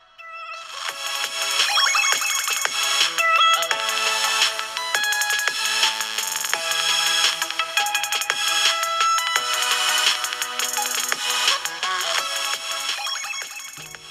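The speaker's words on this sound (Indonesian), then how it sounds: "ini adalah test speaker dari Xiaomi 12 Lite-nya." A Xiaomi 12 Lite phone speaker plays a ringtone melody continuously for about fourteen seconds, bright and close, with chiming tones repeating in a steady rhythm and no talking.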